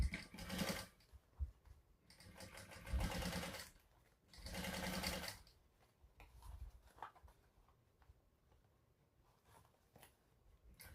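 A sewing machine stitches up the side of a bucket bag in three loud bursts of running, separated by pauses filled with faint handling sounds.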